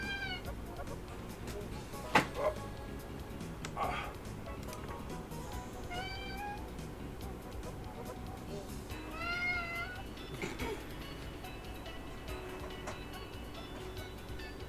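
A cat meows repeatedly, with several drawn-out, rising and falling calls spread across the stretch, moderately close and mixed with faint background noise and a few knocks; no speech is heard.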